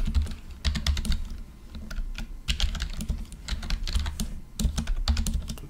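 Steady bursts of keystrokes on a computer keyboard while a command is entered at a shell prompt, close and fairly loud, with short pauses between runs of typing and no talking.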